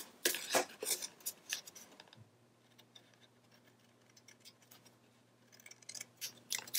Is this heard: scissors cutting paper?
yes